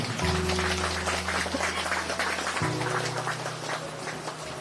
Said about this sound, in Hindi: एक ताली मारिए प्रभु